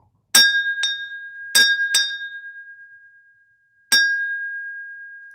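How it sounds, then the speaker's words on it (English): Small meditation bell struck four times at uneven intervals during a quiet practice, each bright metallic ding ringing out close and clear with a long sustained tone that slowly fades into silence. "a little bell ring, and that will be just an indication to remind you all to get back into that focus"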